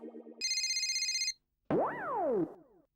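An electronic ringtone plays: a short buzzing tone, a sustained bright chime, then sweeping up-and-down synth tones, loud and alone.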